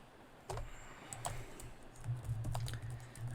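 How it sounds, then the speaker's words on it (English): Computer keyboard typing in a chat window during a Wargroove stream, soft irregular clicks and taps at close range over a low background hum, growing a little busier toward the end. "I'm just typing in chat because I realize that you guys are hearing me on delay."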